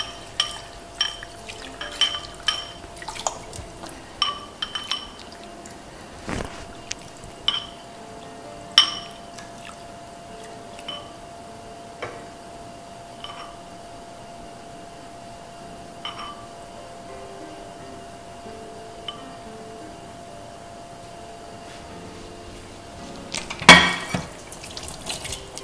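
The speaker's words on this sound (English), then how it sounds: "I need to wash it because you find out that there are lots of sand in it. I'm just going to wash it." Sandy vegetables being washed in water in a kitchen, with scattered splashes, drips and sloshing clatter, sparse through the middle and building to a louder burst of splashing near the end.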